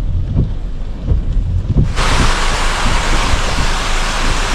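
Strong wind in heavy rain in Vagamon, Kerala, starts as low buffeting rumbles and then swells into a loud, steady roaring hiss that fills the rest of the clip.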